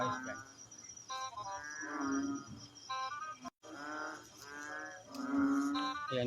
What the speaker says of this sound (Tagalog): papakita ko sa inyo ang bakbak na palaka